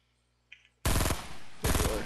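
Gunfire in the Fortnite video game: a burst of loud, close shots starts abruptly after a faint blip, dies back briefly and then surges again.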